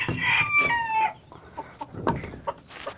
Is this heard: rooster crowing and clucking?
yes